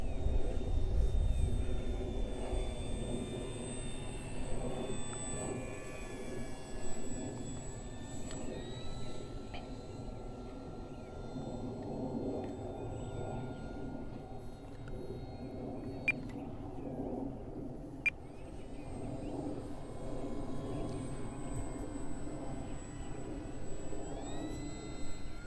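A large Arrows Bigfoot RC model airplane flies overhead and eases off the throttle, its engine a steady, distant drone with a slowly shifting whine that stays fairly faint and unbroken, with no talking.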